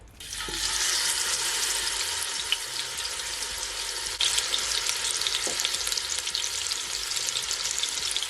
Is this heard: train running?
no